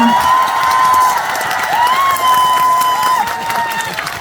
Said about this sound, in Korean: 오늘 이 자리에 박사님 잘왔다 생각하시면 큰 박수 한 번만 주시겠어요?